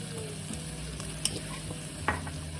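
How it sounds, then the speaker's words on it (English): Seasoned food laid in a lightly oiled skillet, a steady low sizzle with a faint hum beneath and a couple of sharp clinks from utensils, close and alone without voices. "I'm gonna put it seasoned side down in my skillet with a little bit of oil"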